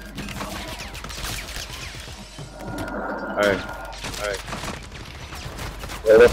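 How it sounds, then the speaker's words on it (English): Gunfire in a Call of Duty match, with bursts of shots and impacts scattered through a busy battle mix, a louder burst near the end, while a player talks over it. "Where the fuck they shooting me from?"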